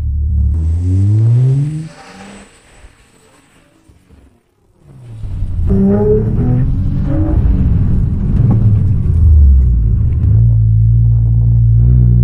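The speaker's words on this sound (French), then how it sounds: "Je veux que vous entendiez le son de la voiture." A Nissan GT-R engine rumbles and revs loudly, fading briefly before the car roars close by on the road with rising, accelerating engine tones.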